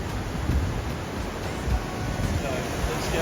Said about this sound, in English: There's a waterfall just back there.